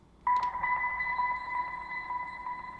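A slowed, smeared dolphin squeak processed with reverb, delay and grain delay, starting suddenly and holding as a steady tonal hum with reverb and echo trailing, fading gently, alone without talking.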